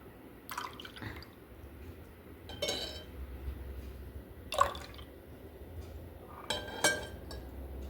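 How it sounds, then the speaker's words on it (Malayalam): Homemade light pink rose apple squash poured from a container into a glass indoors, heard as quiet, scattered drips and a few soft glassy clinks with no voices. "കുറച്ചിങ്ങനെ നമുക്ക് ഗ്ലാസ്സിൽ ഒഴിച്ചിട്ട്"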